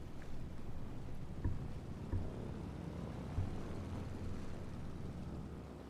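Small propeller airplane taxiing in Microsoft Flight Simulator, its engine leaned at low power, gives a steady low droning hum throughout, with a few soft thumps.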